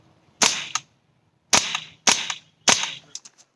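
An airsoft WE Tech XM177 rifle fires four sharp, snappy shots one at a time on semi-auto, spaced unevenly with silence between, followed by a few faint clicks.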